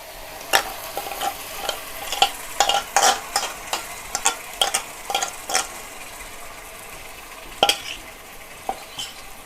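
Dry chicken masala frying in a pan under a soft sizzle, with repeated sharp scrapes and clinks of a spatula stirring against the metal, irregular and close.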